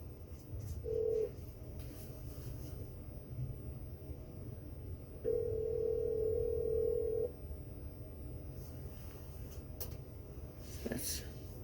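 Internal office phone system placing a call to a cell phone, with steady tone bursts, one short near the start and a longer two-second tone midway, over a constant background hum and faint clicks.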